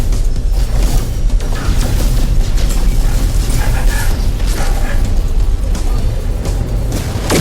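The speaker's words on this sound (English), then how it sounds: "So they've improved those explosions as well." Continuous heavy rumbling blasts and booms from the video game No Man's Sky on PS5, dense and loud throughout, with crackling bursts layered over a deep low roar.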